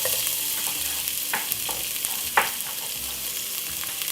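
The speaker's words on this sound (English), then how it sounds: "Then next what we're gonna do is put in white onion" White onion sautéing in oil in a pot for Jamaican curry goat, a steady soft sizzle with occasional stirring scrapes and clicks, close and moderately loud, no talking.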